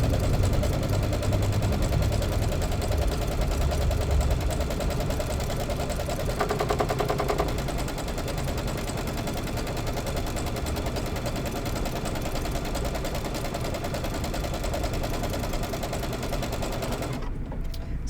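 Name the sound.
sewing machine stitching a quilt placement line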